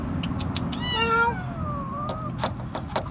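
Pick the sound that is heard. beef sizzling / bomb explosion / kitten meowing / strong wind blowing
kitten meowing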